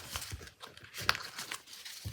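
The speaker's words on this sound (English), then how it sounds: "I'm just gonna put it back before shuffling it." A tarot card deck is handled and shuffled, giving soft, scattered papery rustles and flicks with one sharper snap, quiet and close.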